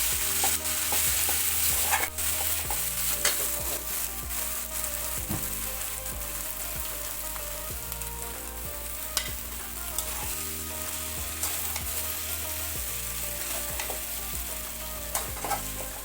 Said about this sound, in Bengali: এখন ভালো করে নাড়াইতে হবে আর ভাজতে হবে